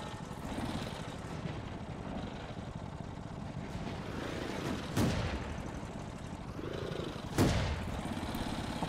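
Tank gun firing in World of Tanks, with two sharp shots standing out over a continuous engine rumble and a dense background of battle noise.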